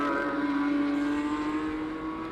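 Porsche race cars at a classic car race meeting hold a steady, loud engine drone on track, a sustained buzzing roar with no clear pass-by peak.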